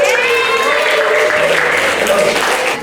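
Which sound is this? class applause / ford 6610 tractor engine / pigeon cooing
class applause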